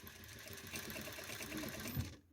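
A sewing machine stitching a garment sleeve during a shoulder and chest alteration, running steadily and close for a couple of seconds before stopping abruptly.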